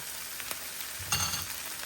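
Soaked moong dal sizzles and fries in a pan, a soft steady crackle with a brief louder burst as it is stirred.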